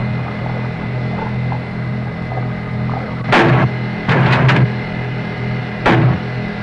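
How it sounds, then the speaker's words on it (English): Warning shots fired into the air from a Vietnam War river patrol boat: three short bursts of loud bangs in quick succession over a steady engine hum and drone aboard the boat. "Warning shots fired in the air are the signal for a suspicious craft to stop and identify itself."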